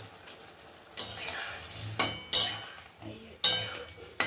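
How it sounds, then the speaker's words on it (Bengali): Soaked fried paneer pieces go into a curry and get stirred in a pan, with a spoon scraping and clinking sharply against the metal several times over a faint sizzle. "এবার পনিরটা দিয়ে দিচ্ছি, ভালো করে ধুয়ে রেখেছি"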